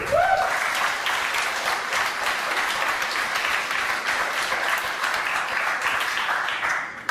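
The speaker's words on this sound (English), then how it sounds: "one more round of applause for Julie" Sustained round of applause from a startup demo day audience for a departing presenter, dense steady clapping filling the room for several seconds before tapering at the end.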